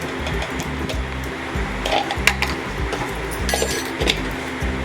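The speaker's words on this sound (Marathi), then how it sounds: "हे बघा एक चमचा वेलची पावडर घालून घेऊया आपण आणि व्यवस्थित मिक्स करून घेऊया" A spoon stirs cardamom powder into melted jaggery in a pan for sesame tilgul ladoos, with repeated metallic scrapes and clinks over a steady low hum from the stove.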